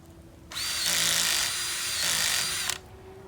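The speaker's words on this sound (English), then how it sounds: "Check out this super cool auger. This is from Power Planter, and it makes digging the holes a cinch." A Power Planter auger driven by a drill digs a hole for bulbs in a garden, making a single loud, close burst of whirring and churning through soil that lasts about two seconds and then stops.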